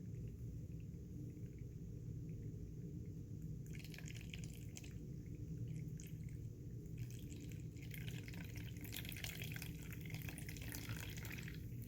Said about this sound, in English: There you see the water trickling down.